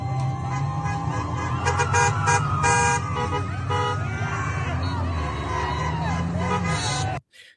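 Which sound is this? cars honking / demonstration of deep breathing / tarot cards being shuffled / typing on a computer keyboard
cars honking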